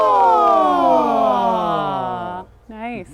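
A singer's voice imitates a siren in a vocal exercise, one long smooth glide descending from a high register, then a short wavering slide up and down after a brief pause.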